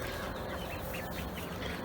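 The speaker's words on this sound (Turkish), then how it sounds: "Bakın ördekler nasıl yem yiyor." Ducks in a mixed backyard flock with chickens and a small rooster feed on grain, giving a dense, continuous bed of pecking, dabbling and soft quacking noise close by.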